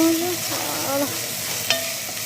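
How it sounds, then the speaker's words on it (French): Carrots and peppers stirred in a pan with fish filling for African fish pastels, a low sizzle with a brief utensil scrape, faint background tones and no clear talk. "Après, je vais rajouter carottes, poivrons. Je mélange."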